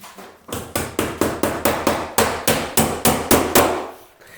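Nails hammered into plasterboard to fix metal plaster beads, about a dozen sharp, evenly spaced hammer blows at close range, each ringing briefly, with no talk.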